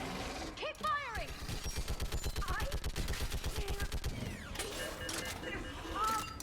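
Rapid automatic gunfire in the sci-fi shooter Mass Effect Legendary Edition, a sustained rattling burst of evenly spaced shots in the middle, framed by shouted voices and mechanical clanks.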